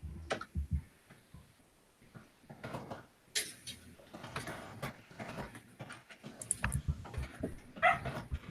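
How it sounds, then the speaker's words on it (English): Indoors, a dog gives short scattered barks and yips among irregular ticking, shuffling and knocking noises, moderately close with varying loudness. "Oh, the dog."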